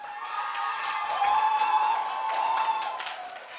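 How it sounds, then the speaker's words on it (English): Crowd applause with cheering for four show hosts at a national newsroom contest, steady and dense for the whole stretch, fairly loud and sustained with a few whoops over the clapping. "Let's clap for these 4 guys"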